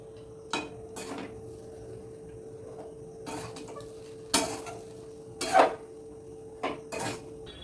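Semolina (suji) being mixed with potatoes, fried peanuts and curry leaves in a pan, giving scattered clinks and scrapes of a utensil against the pan in short separated bursts over a quiet background.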